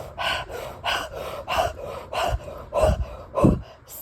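Rapid connected breathwork breathing at full effort: a quick, steady series of forceful inhales and exhales about twice a second, close and breathy with no talk.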